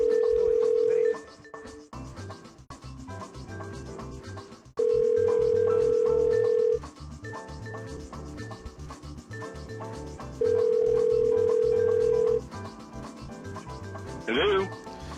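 A steady telephone tone sounds in three long bursts with pauses between them, playing over continuous background talk and music-like noise during a call to Perry, with a brief sharp chirp near the end.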